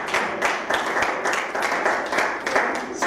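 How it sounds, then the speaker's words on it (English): A round of applause at a team event, a small group clapping in rhythmic, fairly loud bursts that stay steady for a few seconds. "Give them a round of applause."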